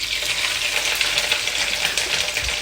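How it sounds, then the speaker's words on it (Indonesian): Pieces of dendeng balado, a spiced beef, fry in hot oil in a home kitchen. The sizzle is close, dense, crackling and steady, with no talking. "Goreng dendeng balado."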